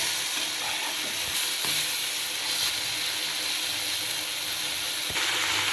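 Fish fries in a pan with a loud, constant sizzling hiss, close by, joined now and then by a soft knock or scrape of a utensil, and no talking.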